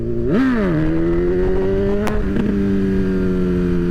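A motorcycle engine revs sharply during a wheelie attempt at around 20–25 mph, then holds a loud, steady high drone close by with a brief clatter partway through, no talking.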